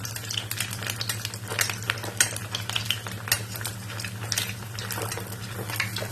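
Curd rice fritters sizzle quietly in hot oil while a utensil scrapes and clinks against the pan as they are flipped, in soft, irregular strokes.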